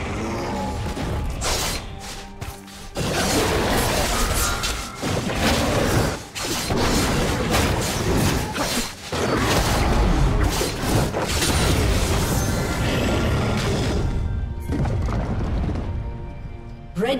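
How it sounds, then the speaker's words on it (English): A turret being destroyed in the video game League of Legends, amid loud, dense combat noise with crashes, booms and mechanical clatter and a few short gaps, ending in a quieter stretch. "Red team's turret has been destroyed."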